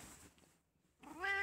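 A pet cat lets out a close, clear meow at the end of a short moment, after a softer breathy sound and a brief silence.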